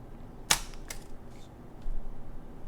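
A Nikon F film camera releases its shutter with one sharp mechanical snap. A fainter click follows, then quiet handling noise. It is close and heard on its own.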